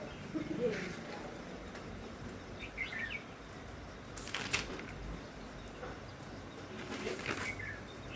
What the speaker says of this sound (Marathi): पक्ष्यांचे आवाजसुद्धा मनाला खूप भुरळ टाकतात